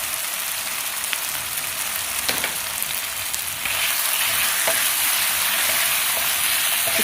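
Ginger and garlic paste fries in a pan for a chicken white qorma, giving a loud, steady crackling sizzle throughout that intensifies midway, with no voices.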